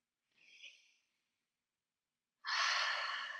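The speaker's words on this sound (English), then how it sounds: "take a nice deep breath in" A slow, deep breath drawn in, soft and airy, followed after a pause by a louder, longer rushing exhale close to the mic during a guided meditation.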